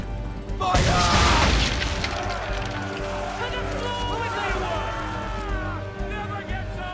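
A loud cannon boom with a burst of explosion opens the scene in the Assassin's Creed III naval battle, then rumbling and mechanical noise continue while voices talk over it.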